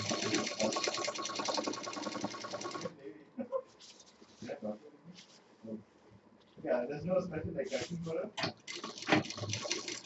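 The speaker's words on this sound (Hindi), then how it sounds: "पूरा घुमाएंगे, सेट करते हुए पूरी सिलाई दे देंगे।" A sewing machine stitches a handbag lining in loud, rapid bursts at the start and end, with a quieter stretch of handling noises and talking in between.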